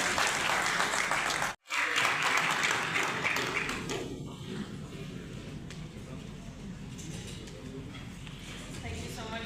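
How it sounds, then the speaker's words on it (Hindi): An audience applauds at a university speaking event with a sustained wall of clapping, broken by a brief dropout early on, then continuing slightly softer and more scattered toward the end. "Ladies and gentlemen, a huge round of applause is kindly तालियां बजाएं इनके लिए।"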